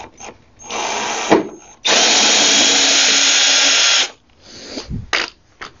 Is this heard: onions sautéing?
no